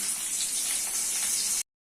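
Chopped onions hit hot oil in a pan with a steady, close hiss that holds for about a second and a half, then cuts off abruptly into silence.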